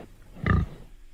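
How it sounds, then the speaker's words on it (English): A pig grunts once, a short loud rough burst with a gritty low body, standing alone against a quiet background. "which animal makes a grunting noise like this?"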